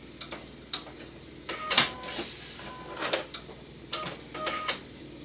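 A sewing machine stitches a fabric bowl cozy, reinforcing the start of the seam with several short bursts of rapid mechanical clatter separated by brief pauses, moderately close and with no talk.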